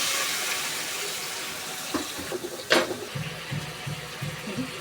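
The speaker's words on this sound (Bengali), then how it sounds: "হালকা একটু জল দিয়ে দিলাম।" Water is poured into a pan while a Bengali fish curry with tengra fish is being cooked, giving a soft trickling splash followed by a few gentle bubbling pops over a steady background hiss.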